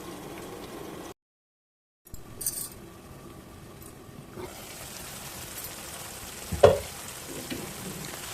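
Stuffed eggplant curry cooking under a lid in a pan, a soft steady sizzle and bubbling after a brief silent gap, faint and close, with one small clink partway through.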